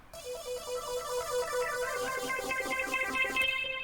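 A bright synth melody plays alone, a steady sequence of plucky notes with a clean, unprocessed feel and no GrossBeat effect applied, fairly quiet.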